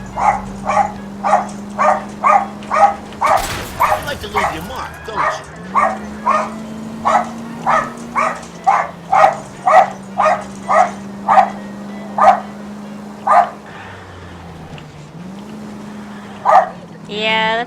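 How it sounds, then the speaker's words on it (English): A dog barks repeatedly in quick regular bursts, loud and close, with a few short pauses, over a low hum and some background noise. "Unfortunately, when she sees something, anything, squirrel, bunny, human, she'll bark."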